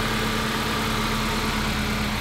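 A car engine idles in drive, giving a steady, even low hum with no change in pitch and no voices.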